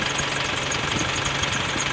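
A carbureted multicab engine idling with a noisy belt, a steady close mechanical drone with a faint rhythmic knock and a high whine running over it, with no voices.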